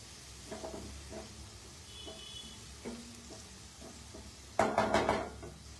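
Food fries in a pan during a live cooking show, a low sizzle under repeated clinks and scrapes of a utensil stirring. A louder burst of clattering comes near the end.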